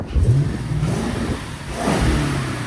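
The 5.0-litre V8 of a 2008 Lexus IS F with a rear muffler delete revs up loudly nearby, drops back, then revs again with a deep throaty roar.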